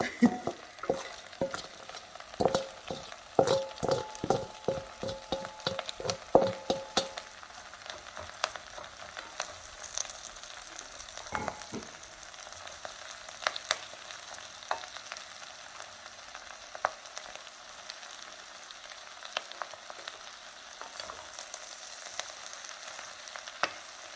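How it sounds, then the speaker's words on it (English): Shredded cabbage tumbling into a pot of corned beef dinner makes a quick run of crisp rustles and taps, followed by a steady soft sizzle and occasional stirring clatter, close and fairly quiet with no talking. "I'm going to add my cabbage and try not to make a mess."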